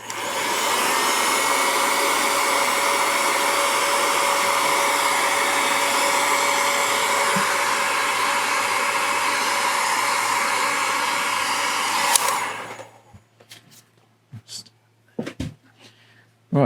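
Heat gun blowing hot air onto heat shrink tubing over a Bluetooth telemetry module: a steady, loud roaring whoosh held for about twelve seconds, then cut off, leaving a few faint clicks and handling noises.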